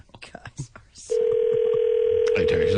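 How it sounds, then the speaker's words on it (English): A telephone tone comes in after a second of background talk and holds as a steady, loud electronic tone to the end, with more voices returning over it near the close. "Need something to do while the phone rings."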